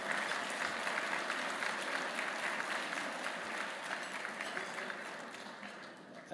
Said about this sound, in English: let's all give a round of applause to all of our speakers so far in this conference today